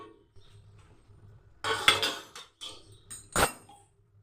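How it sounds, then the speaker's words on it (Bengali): A lid comes off a cooking pot of niramish doi potol in a home kitchen: quiet metallic clanks, then a sharp clatter and a scraping clink, with a final bright knock of metal on metal. "চাপাটা খুলে দিচ্ছি।"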